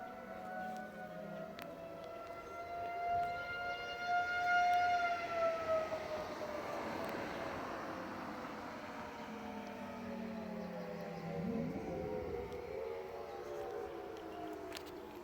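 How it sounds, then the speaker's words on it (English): A tornado civil defense siren near a gas station in Rolla, Missouri, sounds its monthly test, a loud wailing tone that rises and falls in long sweeps for the whole stretch, with no talk over it. "There's a siren right by the gas station down here."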